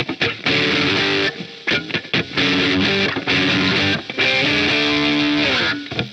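Distorted electric guitar through a Bias FX 2 Pure Plexi preset, Marshall-style, with gate boost, plexiglass drive, Greenback 25 cabinet and reverb, playing loud, continuous rock chords and riffs with brief gaps between phrases.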